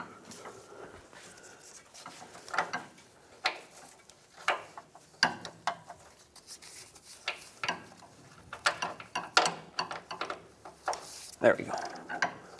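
A long swivel-head ratchet works a tight 19mm bolt under a 1996-2002 Toyota 4Runner near the sway bar and transmission pan, giving intermittent clicking pawl bursts and metallic clunks, close, with someone talking between them.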